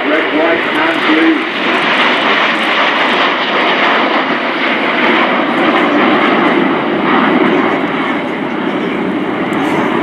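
Red Arrows aerobatic jets fly overhead at an air show, giving a loud, continuous roar that persists throughout while a commentator talks over it.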